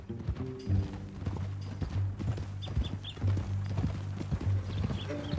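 Horse hooves clip-clop at a steady walking rhythm on hard ground in the Western game Red Dead Redemption 2, close and moderately loud, with a low musical drone beneath.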